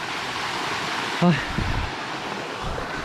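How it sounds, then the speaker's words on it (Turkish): A waterfall on the Mae Hong Son motorcycle loop in Thailand, its steady broadband rush of falling water filling the scene at moderate distance, with a brief voice calling out partway through. "Bu şekilde arkadaşlar şelale."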